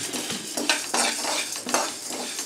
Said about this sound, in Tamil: பக்கத்துலேயே நின்று பருப்பை கிளறிக்கிட்டே இருங்க